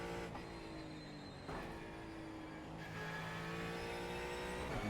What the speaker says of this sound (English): it's like the engine tone's much more high pitched than the GT3 Mustang